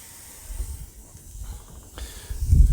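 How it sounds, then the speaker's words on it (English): Burger patties sizzling on a grill, a soft steady hiss with low crackle and pops that grows louder toward the end, heard alone without talk. "Oh, I love to hear that sizzle"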